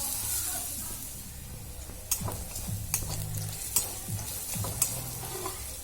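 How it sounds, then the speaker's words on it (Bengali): Garlic paste fries in oil in a pan for a Bihari chicken curry, a soft steady sizzle broken by several sharp scrapes and clinks of a spatula stirring against the metal. "এবার দিয়ে দিচ্ছি রসুন বাটা, এটাও ভালো করে একটু ভেজে নেব।"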